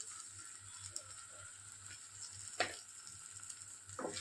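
Masala sizzling in oil in a pan for a Bengali-style rohu fish curry, a steady faint fry with occasional soft stirring scrapes.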